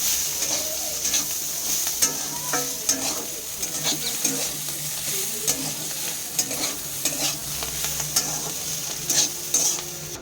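Banana stem, known as thor, stir-fries in a pan with a constant loud sizzle, while a utensil stirs and scrapes in irregular strokes close by and no one speaks.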